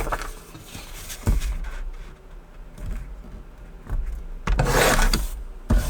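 Card paper being cut for a handmade card, heard as close scraping and rubbing strokes with a few sharp slices and a louder burst near the end.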